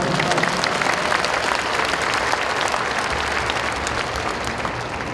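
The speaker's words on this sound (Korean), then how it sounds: "서로 뜨거운 박수로 환영해 주시기 바랍니다" Sustained audience applause fills a formal ceremony hall as guests are welcomed at the commemoration of Kim Dae-jung's 100th birthday, a dense, steady wash of many hands clapping close and loud throughout.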